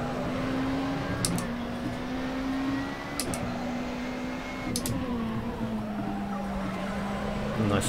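A race car in the rFactor 2 sim at Indianapolis drones at a steady engine pitch that dips with gear shifts, while brief tire squeals and scrubbing break in every second or two, at moderate level.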